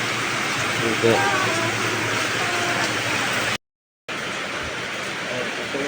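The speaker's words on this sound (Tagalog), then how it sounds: "Grabe po mga kadads, ang lakas ng ulan." Heavy rain pours down steadily in a broadband hiss throughout, with a person speaking briefly over it and a short break in the sound near the middle.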